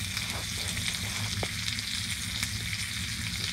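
A ribeye steak and potatoes sizzle over a campfire on a solo winter overnight trip, a close, continuous crackling fry with a faint low rumble beneath.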